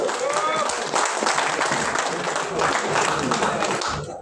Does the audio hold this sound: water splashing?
no